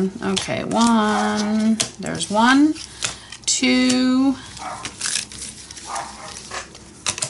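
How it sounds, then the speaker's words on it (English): A dog barks a few times close by, overlapping with a person talking and counting aloud. "Sorry about my dog barking."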